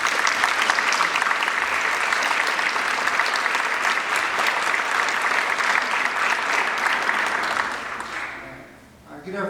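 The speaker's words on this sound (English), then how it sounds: "can we give Fergus a warm round of applause" A live audience gives a warm, sustained round of applause for a guest speaker at a talk, a dense, even patter of many clapping hands that carries for most of the clip before tapering off near the end.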